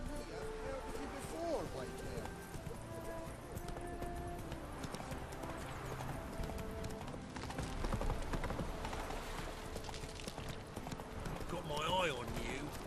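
A horse gallops in The Witcher 3: Wild Hunt on the isle of Skellige, its hooves clip-clopping in a fast, steady rhythm that stays prominent throughout, with a brief neigh and a voice over the game's ambience.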